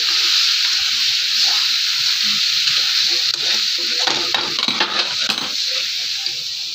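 Spicy cowpea pods and potatoes, seasoned with Maggi masala, are stir-fried in a pan: a bright, constant sizzle runs under busy scraping and clinking of a spoon against the metal, which grows louder toward the end.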